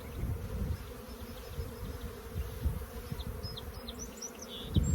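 Honey bees hum steadily around an open hive, a dense continuous buzz close to the microphone with individual insects droning past, heard alone without voices.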